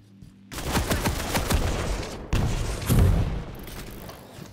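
A super machine gun in Quake Champions fires long, dense rapid bursts of shots with a brief pause between them, loud and close, heard without talk.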